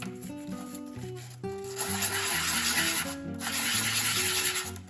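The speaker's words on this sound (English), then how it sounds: "back to sanding and smoothing these edges now" Sandpaper rubbing and smoothing the edges of a spinning coin ring, a steady close scratchy abrasion with rhythmic strokes under a background of music with melodic notes.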